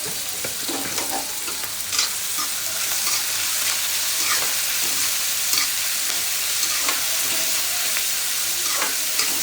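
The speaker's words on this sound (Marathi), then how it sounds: "कांदा मोठा कापला त्याच्यामुळे याला वेळ लागणार आहे जरा असं भाजू द्यायला आरामात." Onion and potato fry in a pan with a continuous dense sizzle, broken by occasional scraping stirs, loud and close with no talking.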